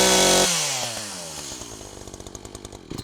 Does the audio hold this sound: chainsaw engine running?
yes